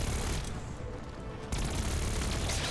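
Heavy automatic gunfire roars during a Call of Duty Zombies boss fight against Richtofen, a loud continuous fusillade that dips briefly and then surges back at full intensity.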